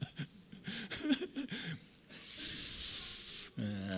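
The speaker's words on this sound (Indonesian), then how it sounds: "tak suiti mereka langsung, itu papa." A man gives a sharp, high, sustained whistle to call his children, about a second long, following a stretch of preaching talk and cut off by more speech.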